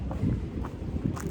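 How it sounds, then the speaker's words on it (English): Morning wind on the Appalachian Trail near Duncannon, gusting in soft low rumbles against the microphone with a few faint brushing sounds and no speech. "it's a little windy this morning"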